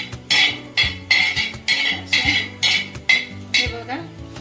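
Cumin seeds being dry-roasted for pani puri are stirred in a pan, with about nine rhythmic scraping strokes of a utensil against metal, close and fairly loud, with no talk.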